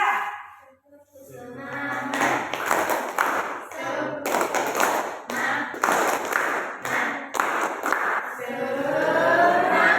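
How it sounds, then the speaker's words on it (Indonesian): A classroom of students gives a rhythmic, encouraging round of clapping in bursts after a count, with a shouted word and a teacher's voice before and after. "Coba kita beri tepuk tangan semangat dulu."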